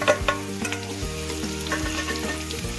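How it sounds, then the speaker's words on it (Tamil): Dried red chillies frying in hot oil give a close, lively sizzle and crackle, with a few soft scraping stirs of a utensil against the pan and no voices. "இப்போ காஞ்சி மிளகாய் போடலாம்."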